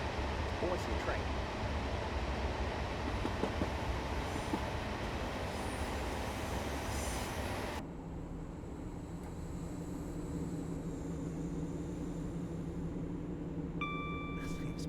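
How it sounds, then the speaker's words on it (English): A simulated train in Train Simulator Classic on the Plymouth to Penzance line, a steady rumbling roll that cuts abruptly to a quieter interior hum with a thin tonal whine, under occasional talk. "A train going rather slowly."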